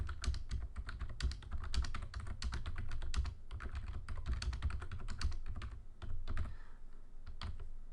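Close, quiet typing on a computer keyboard at a desktop: rapid, irregular key clicks in continuous bursts with brief pauses, and no speech.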